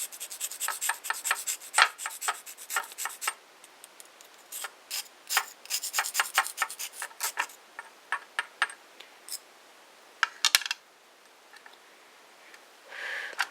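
Liquid polymer clay (Fimo) is stirred with a tool, giving rapid scraping and rubbing strokes in irregular bursts. The sound is close and dry, with brief pauses and no voices.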